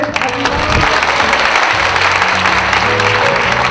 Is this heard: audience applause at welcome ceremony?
yes